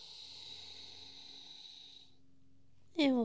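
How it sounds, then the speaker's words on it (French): Slow, deep breathing during a yoga session, a long airy exhale hissing softly and steadily before fading into quiet, then a short louder breath sound at the end. "Encore 2 respirations profondes."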